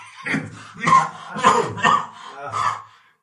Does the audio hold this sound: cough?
yes